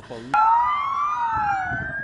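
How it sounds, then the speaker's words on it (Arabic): Air raid sirens in Kyiv suddenly start wailing, their steady tones slowly sliding in pitch, loud and continuous after a brief muffled noise at the start. "صفارات الانذار لم تهدأ"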